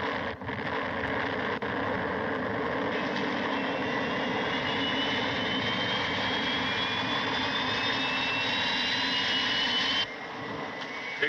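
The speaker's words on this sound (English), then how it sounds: "Main motors." Spacecraft main motors fire for lift-off, a loud, steady, continuous rumbling roar with a rising whine that holds for the whole stretch, then drops slightly near the end.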